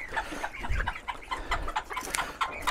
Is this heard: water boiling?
no